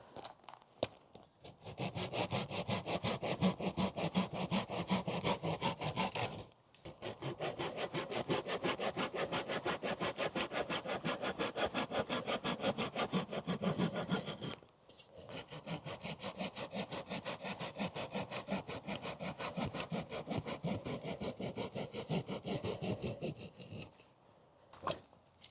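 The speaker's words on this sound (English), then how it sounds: "Let's cut some wood." Short-bladed folding saw cutting dead wood behind a camping shelter: a steady, fast back-and-forth rasp of sawing strokes, close and continuous in three long bursts separated by short pauses.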